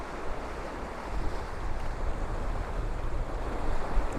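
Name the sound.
waves hitting harbour wall at St Monans pier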